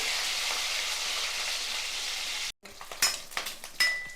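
Pieces sizzle in hot oil in a pan for egg and yam curry, a steady frying hiss that cuts off abruptly, then quieter crackles and scraping stirs follow.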